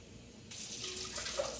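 Cold water runs from a kitchen tap into a measuring cup, a steady close splashing stream that begins abruptly and continues evenly.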